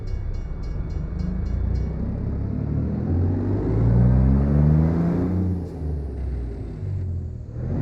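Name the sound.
train passing in American Truck Simulator video game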